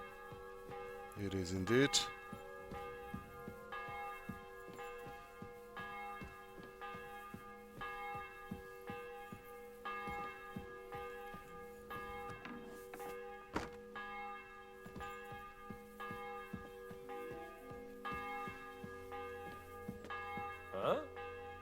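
A church bell tolls in a medieval village in Kingdom Come Deliverance II, sounding as a few resonant ringing strikes that linger under game music, with a brief spoken line.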